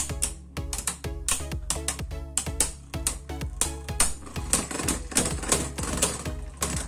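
Beyblade Burst spinning tops, including Achilles, clash in a stadium battle, giving off a rapid, steady stream of sharp, loud clicking impacts and rattles that continue without a break.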